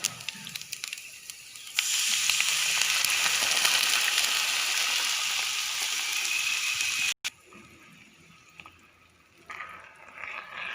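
Coconut paste and curd hit a pan of cooked okra, setting off a loud, broad sizzle that holds steady for several seconds, then cuts off abruptly and settles into a quieter, uneven bubbling simmer.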